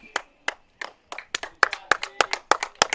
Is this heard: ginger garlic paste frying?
no